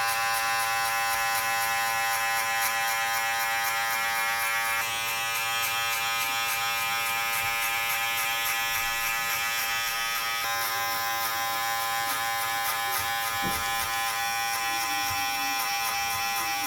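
Electric hair clippers buzz steadily and close-up with the 1 guard lever open, cutting a guideline for a mid fade haircut, with a continuous drone and slight shifts in tone as the blade moves.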